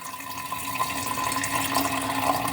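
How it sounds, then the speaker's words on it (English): Fresh pomegranate juice poured slowly from a container, a steady close liquid trickle and splash running continuously for a few seconds with no talking. "I'm going to pour this very slowly so that the juice on the bottom comes out first"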